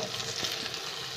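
Stuffed eggplant masala frying in a pan, giving a brief, steady crackling sizzle heard up close with no talking.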